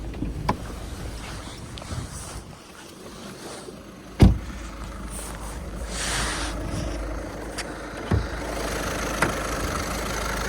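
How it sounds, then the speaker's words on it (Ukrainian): Steady, low engine idle rumbling at moderate volume from a Skoda Octavia A5, with a few sharp clicks and a brief thump along the way. "Робота двигуна"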